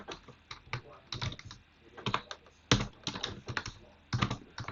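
Keys on a computer keyboard being typed while editing Python code, heard as close, irregular clusters of crisp clicks with brief pauses between bursts and no talking.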